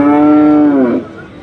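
A cow at a cattle market lets out a single loud, close moo lasting about a second, low and sustained before it trails off.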